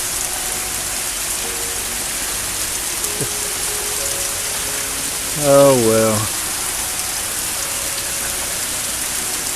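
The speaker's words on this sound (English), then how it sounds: "A rainy day." Steady rain falls across a rural homestead garden, a constant soft hiss throughout, with someone speaking briefly near the middle.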